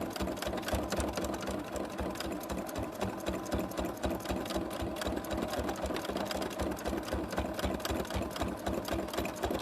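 A sewing machine stitches fabric collage pieces down with a steady, close, rhythmic mechanical chatter. The motor runs on without a break and no one speaks.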